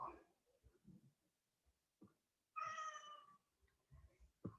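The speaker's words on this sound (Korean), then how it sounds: "고양이가 자꾸 우네요." A house cat meows several times at close range in a quiet indoor room, with short vocal cries spaced through the clip and one longer, louder meow near the middle.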